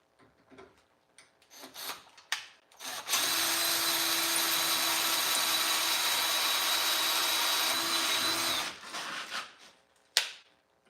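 A power drill runs steadily for about six seconds while boring with a bent bit during work on a tractor, loud and continuous, framed by scattered knocks and handling noises before and after.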